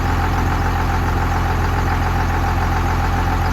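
A Dodge Dakota pickup fitted with a 12 valve diesel, S300 turbo and 48RE transmission, rumbling steadily at idle, up close and loud, the drone unchanged throughout.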